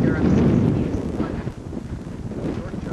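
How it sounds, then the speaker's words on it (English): Gusty wind buffets the microphone with a low, rumbling roar that rises and dips over a few seconds. "Very windy out"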